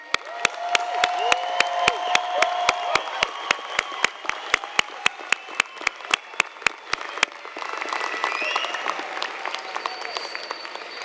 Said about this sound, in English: Thank you, everyone, for being here today to applaud our graduates.